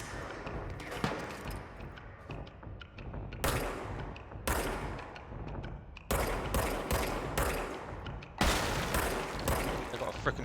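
Gunfire in the video game Control, with sharp loud rifle shots breaking out at irregular intervals over a busy background of rumbling combat noise, while a voice talks at times.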